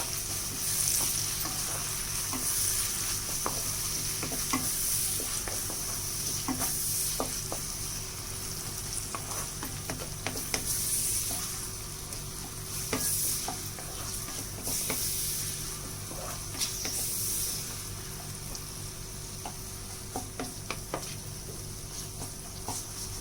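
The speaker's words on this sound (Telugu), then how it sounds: "టమాటా బాగా మగ్గిపోవాలని బాగా వేగిపోయేదాకా ఉన్నాను" Ripe tomatoes for tomato rice fry in a pan with a soft, steady sizzle, while a spoon stirs and scrapes now and then, making scattered clicks close by.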